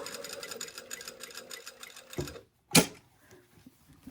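A sewing machine stitches across a seam of a Style Arc Monty garment with a rapid, rhythmic ticking, close and moderately quiet, ending in a short pause and a sharp click.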